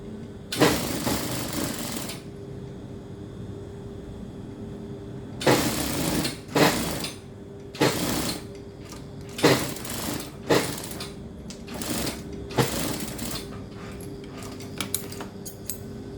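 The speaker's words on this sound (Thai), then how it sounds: "ล็อกไว้ก่อนทั้งสองเย็บไล่สาบลงมาข้างล่างเลยนะคะ" Sewing machine stitching down a placket on a garment, loud close bursts of rapid mechanical needle chatter, a long run at first and then a series of short stitching spurts separated by quiet pauses.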